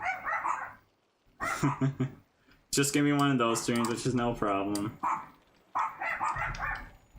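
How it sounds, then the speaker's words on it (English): A dog barks in short bursts nearby, its yips sounding between and under a person talking steadily close up. "I'm a big fan of dogs anyway. You hear that?"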